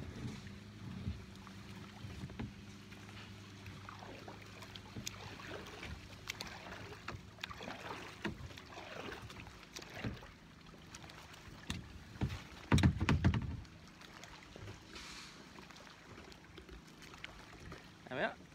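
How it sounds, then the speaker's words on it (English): Small waves from a passing boat slap and lap against the hull of a canoe out on open water, a series of soft irregular splashes with one louder knock, wind brushing the microphone throughout. "I'm getting waves from a boat that's passing"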